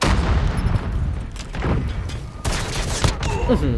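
Rapid bursts of gunfire and impacts from Call of Duty Mobile crackle in close, uneven volleys, with a short voice near the end.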